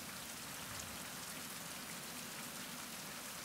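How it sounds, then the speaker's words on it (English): Steady rain falls in the video game Survival: Fountain Of Youth, a dense continuous hiss of drops across the whole stretch, even in level and with no talking over it. "It's raining."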